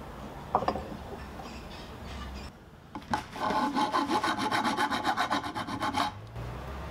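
A rounded hand file rasps down a lip on a pipe fitting that a 1-inch pipe passes through. Brief handling noise gives way to a steady run of close, rhythmic back-and-forth strokes lasting several seconds.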